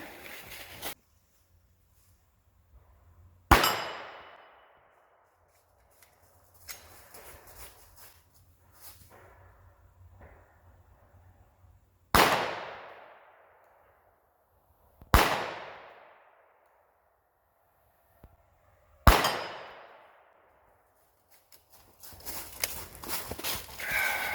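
Glock 17 pistol fired with iron sights at longish range outdoors: four sharp, loud reports spaced a few seconds apart, each followed by a decaying echo tail, with quieter rustling and footsteps between them.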